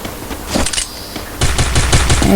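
Dual pistols fire in the Free Fire video game: rapid bursts of sharp shots, one short volley, a brief pause, then a longer, louder string of fast cracks.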